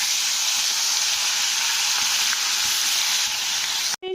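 Koi fish sizzling as they fry in hot oil for a tel koi curry, a dense, steady close-up crackle that runs unbroken until a brief clatter at the very end.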